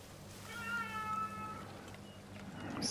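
A house cat gives one drawn-out meow, faint and somewhat distant, over a low steady room hum.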